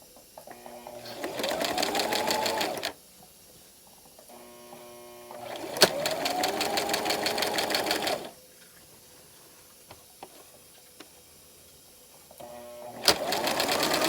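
A sewing machine stitches a shirt in three loud, close bursts of rapid mechanical whirring, each lasting a few seconds, with quiet gaps between them.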